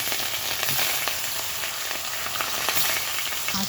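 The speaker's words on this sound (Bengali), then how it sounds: "মাছটা কিন্তু লাল লাল করে ভেজে নিতে হবে সুন্দর করে" Rohu fish pieces, rubbed with salt and turmeric, fry in hot oil in a pan, giving a loud, constant crackling sizzle close by with no talking.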